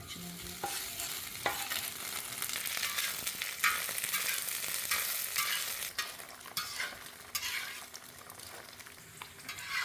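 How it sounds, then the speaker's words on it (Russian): Diced fat-tail lard frying into cracklings for Uzbek flatbread filling, with a steady broadband sizzle and spitting throughout, punctuated by repeated scraping stirs of a utensil against the pan. "Курдючное сало берем мы, нарежем его и будем его жарить."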